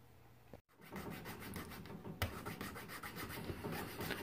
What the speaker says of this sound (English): Use a little needle file, get in there and open that up so we can get the tube down in there.